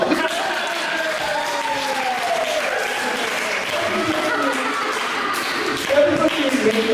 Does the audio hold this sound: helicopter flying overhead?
no